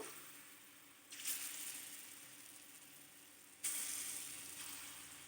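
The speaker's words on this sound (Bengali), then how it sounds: "এবার আমি পেস্ট করে রাখা ডালটা এরকম ছোট ছোট করে আগে বড়ি দিয়ে নেব" Small lentil-paste fritters are dropped into hot oil, which sizzles with a steady soft hiss that swells twice as new portions go in.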